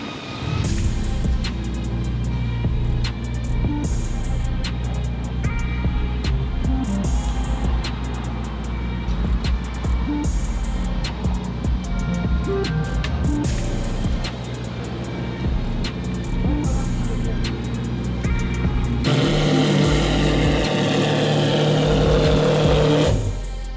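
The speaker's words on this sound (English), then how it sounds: "Lamborghini Revolto with the Duke Dynamics kit here." Lamborghini Revuelto fitted with a Duke Dynamics kit, a loud steady engine drone with low rumble while it maneuvers in a shop, then a brighter rising rev near the end.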